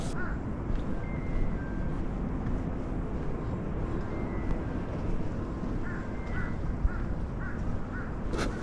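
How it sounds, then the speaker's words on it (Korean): Several crows caw repeatedly in short, scattered calls from a moderate distance at a lookout deck on a wintry forest trail in Seoul, over a steady outdoor wind and ambient rumble. "까마귀가 반겨주는데요."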